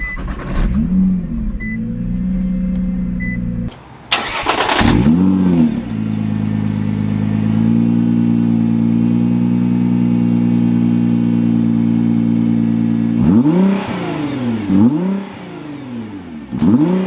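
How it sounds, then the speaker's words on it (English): A 2021 Nissan GT-R Premium engine hums steadily and loudly up close, with brief revs that rise and fall near the start and again toward the end. "let's take this 6-figure GTR out and see how it drives"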